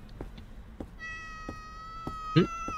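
A short electronic cat meow from the video game Food Delivery Service, heard once clearly over a steady synthetic music tone, with faint tapping beats in the background.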